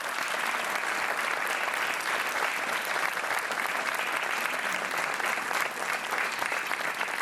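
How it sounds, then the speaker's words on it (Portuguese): Studio audience applauding on a Portuguese TV quiz show, steady dense clapping that holds at an even level throughout, loud and close, with no talk over it. "Um aplauso para a Aldina."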